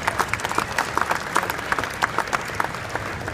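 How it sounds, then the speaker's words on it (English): A crowd at the Ford Performance SEMA 2015 presentation gives a round of applause, a moderately loud, continuous patter of many hands clapping at once for a few seconds. "if you can just help me with a round of applause"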